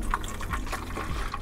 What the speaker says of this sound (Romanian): să pui apa și să bagi medicamentul